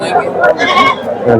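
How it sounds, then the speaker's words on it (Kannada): Rams bleating amid the bustle of a weekly sheep and goat market at Rojarnhalli, the calls rising through steady crowd chatter and voices close by. "ಗಂಡು ಕುರಿಗಳು"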